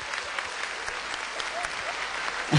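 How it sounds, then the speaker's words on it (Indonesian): Audience applause at a televised stand-up comedy show in Indonesia, a continuous even wash of clapping from the crowd that holds steady throughout, ending with a brief low thump. "Boleh tepuk tangan sekali lagi buat teman-teman saya."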